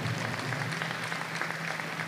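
Steady applause from a large crowd at a netball tournament, a continuous dense patter of clapping at moderate volume with no voices standing out.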